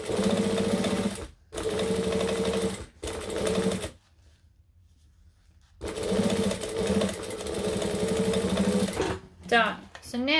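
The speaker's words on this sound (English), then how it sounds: "we're just basting this into the seam allowance" A sewing machine bastes fabric into the seam allowance while sewing a Magdalena bag, running in loud, close, steady whirring bursts split by short gaps and a longer pause, ending with brief rustling and a voice.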